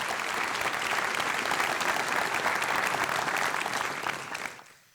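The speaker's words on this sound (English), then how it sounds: "How about a round of applause for our" Applause from the audience at a university awards ceremony in Mānoa, loud, even clapping that holds steady for several seconds and then fades out quickly near the end.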